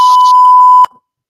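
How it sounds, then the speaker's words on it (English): A loud, steady single-tone censor beep covers a spoken word for nearly a second, then cuts off sharply and leaves silence. "I have the beep ready."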